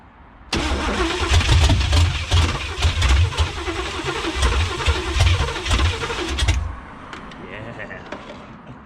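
A 1985 Pontiac Trans Am with a 5.7 engine that has sat unused for seven years cranks loudly and close for about six seconds, with rough, uneven chugging, then stops abruptly and leaves quieter rattles and faint sounds behind.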